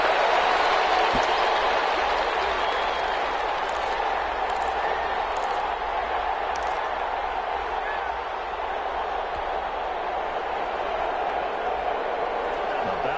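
Stadium crowd noise in an American football video game during a divisional playoff between the Falcons and Lions, a steady dense roar with applause, under continuous commentator talk.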